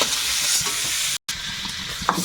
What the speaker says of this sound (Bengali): চিংড়িটা খুব বেশি ভাজবো না একদম হালকা একটু নেড়ে চেড়ে তুলে নেবো